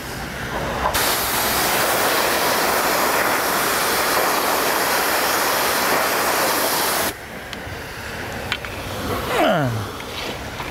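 Pressurised water spraying down a hydrocarbon silt separator on a wash pad, washing from the top down: a loud, steady broadband hiss lasting several seconds that cuts off abruptly, leaving quieter background clatter.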